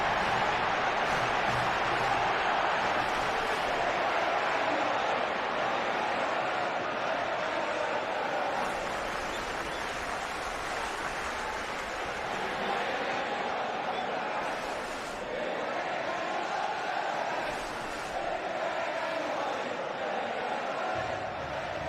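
A packed stadium crowd in a FIFA video game Manchester derby, United against City, keeps up a continuous broad roar with occasional swells and chants, steady and fairly loud throughout.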